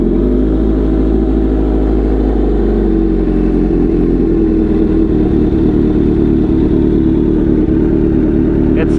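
A Kawasaki Z900 motorcycle with an Akrapovic GP full exhaust starts up and settles into a loud, deep, steady idle with rumbling revs, close by.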